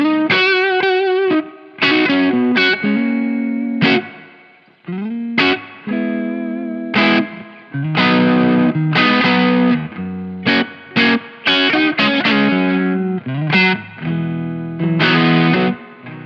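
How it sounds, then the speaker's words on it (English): Electric guitar plays a slow, overdriven melodic line with reverb, notes and short phrases ringing out and decaying into a spacious tail. "let's just add a little bit of reverb to that."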